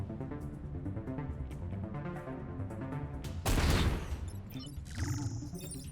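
A single heavy shot fires in the Into the Breach video game, a sudden loud blast with a brief crashing decay over a looping music bed, followed by a short ringing effect.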